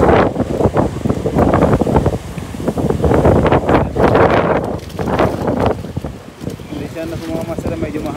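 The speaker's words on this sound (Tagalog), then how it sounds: "medyo mahangin talaga" Strong wind buffets the microphone in loud rumbling gusts during cast-net fishing by an island, with people talking underneath.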